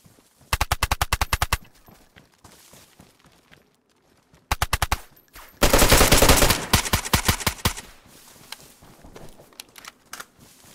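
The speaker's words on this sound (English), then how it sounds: "I'm just in a gunfight." Bursts of automatic gunfire crack out in a DayZ video game gunfight, with several rapid volleys separated by short pauses and one longer, dense burst in the middle, loud and close, with no talking.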